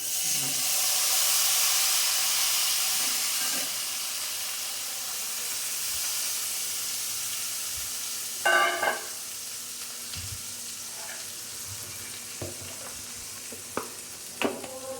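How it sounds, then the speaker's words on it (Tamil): Thick tamarind extract poured into fried spices in a pan for pulikaychal sets off a loud, steady sizzling hiss that slowly fades. A few soft clinks and stirring taps follow later. "நல்லா வறுத்ததுக்கப்புறமா கெட்டியாக கரைச்சி வச்சுருக்கிற புளியை அதில் விடணும்."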